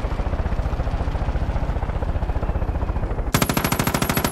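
Far Cry 5 gunfire: a sustained automatic burst of steady rapid shots, loud and close, changing to a sharper, brighter rattle near the end.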